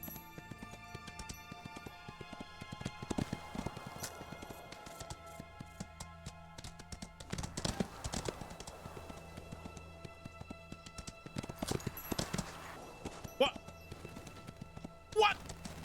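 Rhythmic hoofbeats of a horse in the video game Windstorm trot along in bursts, moderately loud amid game music and effects, while a person talks over them.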